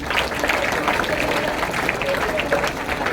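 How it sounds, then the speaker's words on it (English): Audience applause after a skit about elections, a dense, steady wash of many hands clapping close by for about three seconds, with no voices on top. "Let's give them a huge round of applause"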